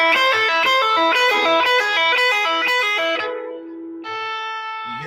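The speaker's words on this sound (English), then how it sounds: "You hear all that ringing when I'm not playing?" Electric guitar played with unmuted strings left ringing, giving a messy, cluttered wash of sustained notes and overtones behind the picked line, loud and close, then fading to a lingering ring before a new chord sounds.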